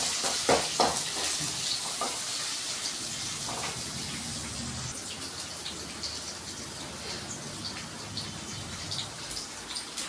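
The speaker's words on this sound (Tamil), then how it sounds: "வெங்காயத்தை நல்லா வதக்கிக்கோங்க." Onions sautéing in a pan for Tamil ennai kathirikkai kuzhambu, a steady soft sizzle and crackle throughout with a few clinks of stirring near the start, no talking.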